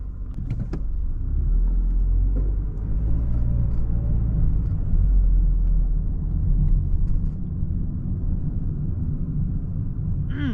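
A 2024 Toyota Corolla LE rolls along a New York City road, steady low engine and tire rumble from inside the cabin, with a couple of faint clicks and no talking.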